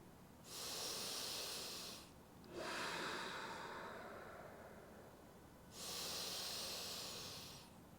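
A yoga practitioner breathes slowly and audibly, with a long airy inhale, a longer exhale that tapers off, then another breath, close to the microphone with no talking.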